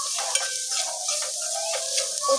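Potato curry stirred in a pan after salt and turmeric go in, giving a steady close sizzle with light scraping strokes of the spoon throughout, with no talking.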